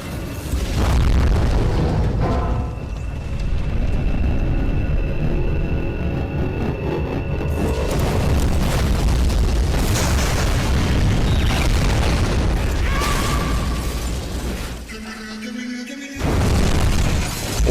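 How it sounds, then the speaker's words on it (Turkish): A loud, roaring acid explosion effect from a Skibidi Toilet animation, with rumbling bursts and crackling debris, continuing heavily before a short pause and another blast. "asit patlaması tabi"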